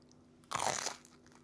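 A single crisp, crunchy bite into the hard crust of jalapeño cheddar sourdough bread, close and sharp, lasting about half a second in otherwise quiet surroundings.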